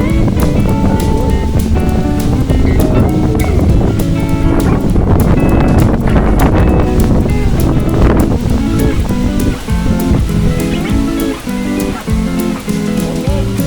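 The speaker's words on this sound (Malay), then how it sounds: "Angin sahabat." Strong wind rushes steadily across a fishing pond, roaring into the microphone and masking most other sound throughout.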